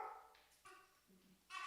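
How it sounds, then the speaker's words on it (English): A dog barks in the background of an indoor room: a few short, faint, distant barks and yips, separated by quiet gaps. "We got a dog."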